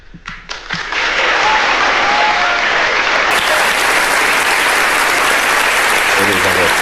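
Loud, dense audience applause at a political speech after an electoral setback, starting with a few scattered claps and swelling within a second into sustained close clapping.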